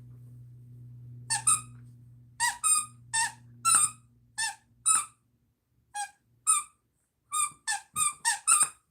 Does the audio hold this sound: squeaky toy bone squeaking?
yes